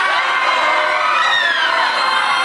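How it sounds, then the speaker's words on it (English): A group of performers screams together continuously at full volume, a dense sustained wall of shrill voices with cheering and yelling and no pause. "All right, Superman, but keep screaming."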